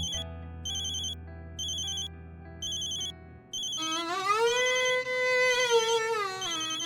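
A phone ringtone plays in repeated short electronic bursts over a low hum, then shifts into a louder sliding melodic tone that rings on without any voices.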